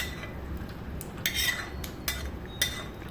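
A utensil stirs fish curry in a metal pan, giving a few sharp scraping clinks at irregular intervals over a quiet kitchen background, with no voices.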